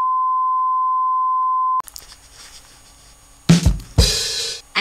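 A joke "non-radar detector" gadget gives a long steady electronic beep at one pitch, loud and clean, and then stops, followed by faint handling noise and a few louder thumps.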